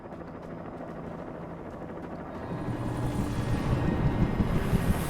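A helicopter in the horror video game Alan Wake Remastered thrums faintly at first, then swells louder and nearer as it closes in, its rotor chop blending with a windy rush.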